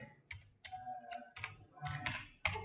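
Close computer keyboard typing, a quick run of separate clacking keystrokes with small gaps, fairly quiet with nothing else behind it.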